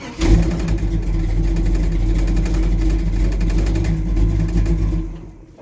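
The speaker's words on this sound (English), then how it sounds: "Y'all heard how quick that car started up? See if I can do it one more time." A big block Chevy II fires up almost instantly with a short burst, then settles into a loud, rumbling, steady idle close by. The engine note eases off slightly at the end.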